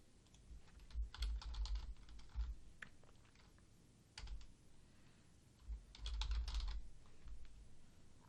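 Keys clatter on a computer keyboard as an alt text title is typed, in quick irregular bursts with short pauses, quiet and close, with no talking.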